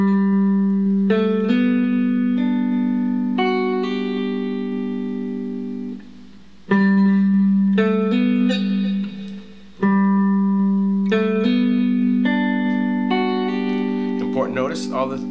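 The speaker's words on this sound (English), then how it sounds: "The whole thing slowly sounds like this." An electric guitar plays a chord slowly, its notes picked one after another and hammered on, all strings ringing together in a sustained, clean tone.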